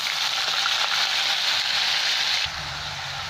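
Ground onion paste sizzles in hot oil with whole cumin and cinnamon, a dense hissing fry that holds steady and loud for over two seconds, then drops abruptly to a quieter simmer with a low hum beneath.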